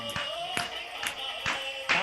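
Applause at a digital celebration event for Dantewada: a handful of sharp claps fall in a steady rhythm, about two per second, over a sustained tonal background.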